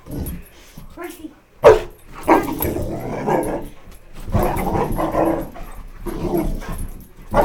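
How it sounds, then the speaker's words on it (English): A boxer dog barks and whimpers in an excited burst at close range, with sharp yelps around the middle and people talking over and between the sounds. "this is our boxer dog, Roxy, and this is her brother, Jackson."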